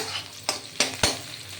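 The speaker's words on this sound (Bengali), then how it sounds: "আগে আমি এই পেঁয়াজটা একটু ভেজে নিচ্ছি তার মধ্যে একটু এই যে পাঁচ ফোড়ন সোমবারা দিলাম" Onion fries with panch phoron in a pan, a soft sizzle under three sharp scraping stir strokes spaced about a third of a second apart, close and fairly quiet.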